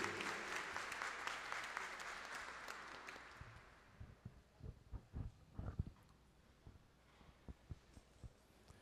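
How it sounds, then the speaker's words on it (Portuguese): Applause fills a plenary hall at a solemn session for the Paraíso do Tuiuti samba school percussion band, a thick burst of clapping that fades after a few seconds into scattered deep thumps and isolated claps. "Palmas para Super Som. Bateria da Escola de Samba Paraíso do Tuiuti."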